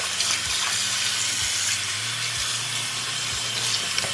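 Running water flows steadily from a tap over bleached black hair extensions being rinsed, a constant close gushing hiss from start to finish.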